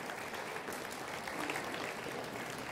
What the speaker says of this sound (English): Come on, give your guys a clap.